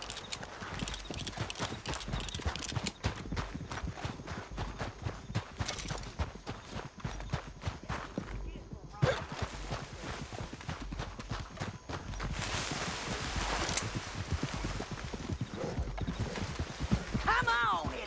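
Horse hooves clip-clop steadily in Red Dead Redemption 2, a continuous rhythmic gallop and trot close up, with a brief whinny near the end and game sounds layered around it.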